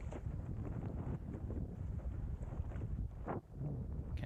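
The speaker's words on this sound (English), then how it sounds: "we've got some quite good breeze here now" Steady wind buffeting the microphone while windsurfing at sea off Brighton, a continuous rough low roar with gusty swells and a brief dip near the end, no voices.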